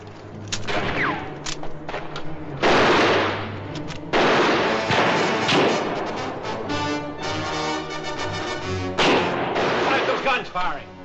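Gunfire during a canyon shootout, repeated loud bursts of shots and booming reports in irregular clusters, with raised voices shouting between and over the blasts.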